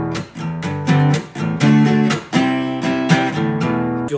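Guitar playing a chord progression, with ringing strummed chords changing every beat or so in a steady mid-tempo rhythm, close and clear with no voice.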